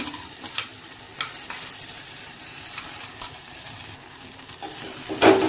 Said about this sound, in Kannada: ಈಗ ಇದನ್ನು ಸ್ವಲ್ಪ ಗ್ಯಾಸ್ ಸ್ಲಿಮ್ಮಲ್ಲಿ ಇಟ್ಕೊಂಡು ಈ ಥರ ಸ್ವಲ್ಪ ಕೈ ಆಡಿಸ್ಕೊಳ್ರಿ